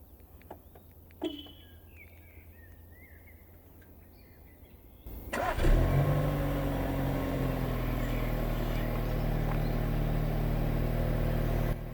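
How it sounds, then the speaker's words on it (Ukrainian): After a few seconds of quiet outdoor ambience with birds chirping, a 2020 Volkswagen Passat engine cranks and starts, then settles into a steady, loud idle rumble. "Як бачимо, автомобіль завівся"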